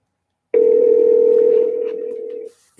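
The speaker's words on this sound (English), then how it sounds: "It's ringing." A single sustained telephone ringing tone plays on an outgoing call for about two seconds, clear and prominent against silence, then ends abruptly.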